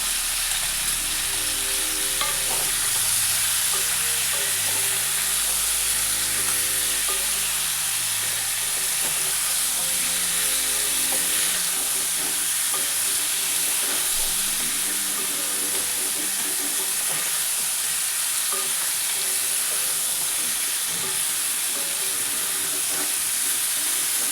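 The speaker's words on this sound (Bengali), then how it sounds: "এখানে চার পাঁচ মিনিট মতো আমি নেড়ে ফেড়ে নিয়েছি" Raw mango pieces with salt sizzle softly in a pan for a long stretch, a steady close frying hiss broken by scattered scraping and stirring sounds.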